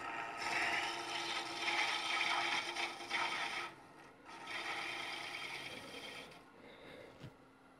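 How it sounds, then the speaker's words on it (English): Round nose scraper working across a wooden segmented bowl on the lathe, a steady close rasping scrape in long passes with brief pauses, no talking. "I'm gonna come back at this with the scraper"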